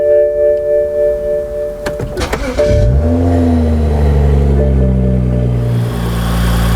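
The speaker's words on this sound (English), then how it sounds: "So let's go ahead and start the engine up." A car engine cranks over and catches, then settles into a steady, loud idle.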